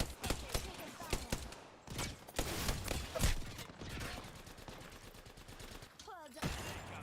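Rapid bursts of automatic gunfire crackle through a combat video game, dense volleys with brief gaps, loud and close, while game voices chatter in between.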